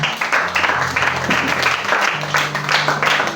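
A church Sunday school congregation applauds to acclaim the Lord. The clapping is loud, dense and sustained in rhythmic bursts, with voices mixed in underneath.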